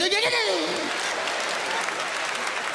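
Audience applause for a group at a live stage event, a dense wash of clapping filling the clip, with a speaking or singing voice over the start.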